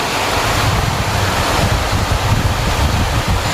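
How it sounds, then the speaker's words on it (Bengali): Steady broadband wash of falling rain, loud and continuous, with gusty rumble underneath; no voices. "দেখো বৃষ্টি বৃষ্টি বৃষ্টি বৃষ্টি"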